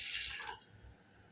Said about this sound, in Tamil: தக்காளி ரசத்துக்கு கொஞ்சம் தண்ணி ஊற்றிக்கலாம்